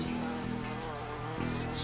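Solitary bees buzzing, a close, faint, steady hum with wingbeat tones that dip and return as the insects move nearby.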